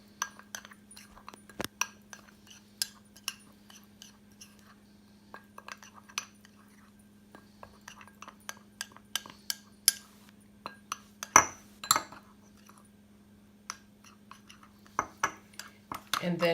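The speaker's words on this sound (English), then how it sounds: "I'm just going to mix it really well" Homemade pumpkin spice being stirred in a container, with a steady run of small, light clinks and taps of a utensil against the sides, quiet and irregular over a faint low hum.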